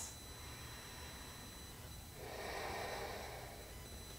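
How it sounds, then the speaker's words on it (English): Slow, deep breathing during a yoga flow for easing back pain, a faint close inhale followed by a long soft exhale, heard alone. "Nice full breaths."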